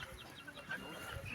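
Guinea fowl call in short chattering bursts while grazing on a poultry farm, close but faint, with a brief burst of noise at the end.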